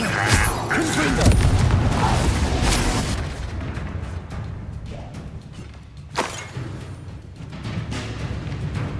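Confringo spell blasts in Hogwarts Legacy, a loud booming explosion with shattering debris early on, then a smaller burst later amid game sounds.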